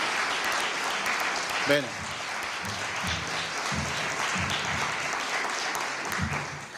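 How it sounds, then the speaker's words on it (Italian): Audience applause for a group of girls at an Italian event, a steady broadband clatter of clapping running throughout, with a voice speaking briefly over it and other voices talking underneath. "Facciamo un applauso a queste ragazze."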